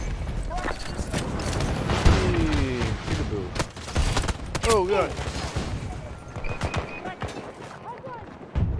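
Battlefield 2042 combat with gunfire crackling in dense bursts, sharp near cracks mixed with distant shots, set among other battle noise, while players talk over it.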